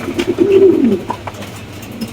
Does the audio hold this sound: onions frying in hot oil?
no